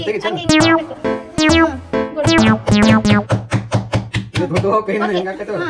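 Hands slapping and patting rotti dough flat, a quick run of sharp, close pats in an uneven rhythm, heard under a voice talking over most of it.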